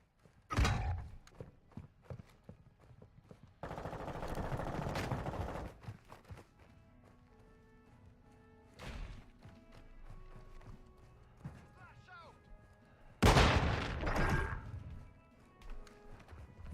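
Gunfire in the Call of Duty Modern Warfare 2 beta during an online match: loud, sharp bursts of shots and a longer volley, separated by quieter stretches of game background noise.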